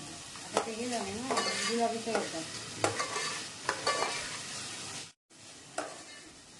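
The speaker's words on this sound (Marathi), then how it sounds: "झिंग्याचा रंग बदलेपर्यंत परतून घेतलाय" Prawns sautéed in a pan for a Malvani-style prawn curry: soft spatula stirring and taps over a gentle sizzle, with a brief whining tone early on and a short dropout near the end.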